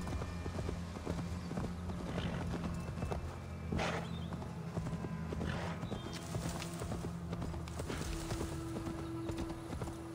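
Horse hooves clip-clopping in Assassin's Creed Valhalla, a steady rhythmic gait over game music and ambience, with a short whinny partway through.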